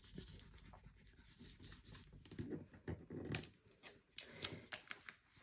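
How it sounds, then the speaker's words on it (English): A hand smoothing down a vinyl sheet on a crafting surface, soft intermittent rubbing and scraping strokes, close and quiet, in irregular bursts. "So you put this down on your vinyl, smooth it down. You want to smooth it good."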